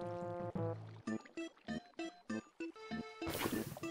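Water is placed in the Minecraft video game, a short rushing splash at the end after a series of clipped tonal blips.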